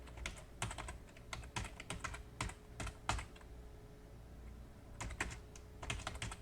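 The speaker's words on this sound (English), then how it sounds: "I can just type it in right from my PDF." Quiet, close typing on a computer keyboard: irregular bursts of light key clicks with short pauses between runs, no talking.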